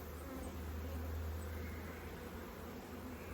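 Honey bees buzz at an open hive, a dense, steady hum that holds at an even level throughout with no voices over it.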